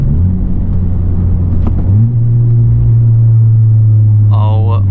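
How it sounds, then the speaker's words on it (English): A 2021 Honda Civic Type R with a MAPerformance exhaust downshifts while exiting a highway. A steady, loud low drone jumps up in pitch midway as the revs rise and then holds, and a voice speaks briefly near the end. "Listen to these downshifts."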